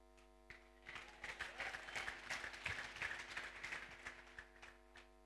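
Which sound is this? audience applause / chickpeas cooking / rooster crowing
audience applause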